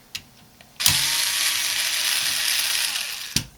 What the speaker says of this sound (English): we got some more screws to take out here